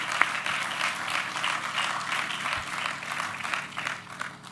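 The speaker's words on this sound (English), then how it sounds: "let me stop and just give them another round of applause." Applause at a gala fills the room, a sustained round of clapping from a crowd, dense and steady for several seconds at moderate distance.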